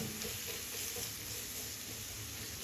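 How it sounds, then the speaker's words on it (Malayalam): Chopped onions sautéing with ginger garlic paste and chillies for Punjabi bhindi masala, a soft even sizzle and hiss held throughout a brief, faint stretch with no talking. "നമ്മൾ അരിഞ്ഞിട്ടുള്ള സവാള ഇട്ട് കൊടുക്കുകയാണേ ഈ സവാള നന്നായിട്ടൊന്ന് വഴറ്റിയെടുക്കണേ"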